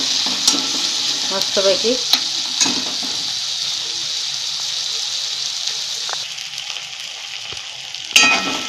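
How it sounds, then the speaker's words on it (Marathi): Onion and tomato stir-fried for a dried mackerel chutney crackle in a loud, dense sizzle, with occasional spoon scrapes and a brief spoken word over the frying. "हे चांगलं हलवून भाजून घ्यायचं 2 ते 3 मिनिट"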